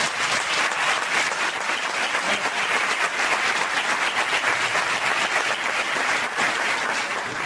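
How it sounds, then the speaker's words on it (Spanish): A theatre audience gives the invited guests a strong, sustained round of applause, dense and steady clapping at close range that runs throughout with no talk over it. "vamos a dar un fuerte aplauso a los invitados"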